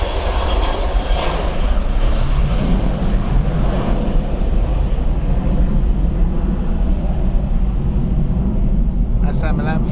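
A passenger jet on its Milan flight departs Stansted Airport, its engines roaring loud and steady throughout as a broad rumbling wash, with a brief crackle near the end.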